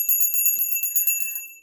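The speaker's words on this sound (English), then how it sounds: "Let's ring our bell" A small bell rung several times in quick succession, bright sustained metallic tones ringing out and then fading away, heard close and alone without talk.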